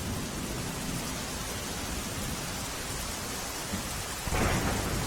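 Heavy downpour in Jamnagar, Gujarat, pours as a dense, steady roar of rain with a low rumble of thunder underneath, swelling louder near the end, with no talk.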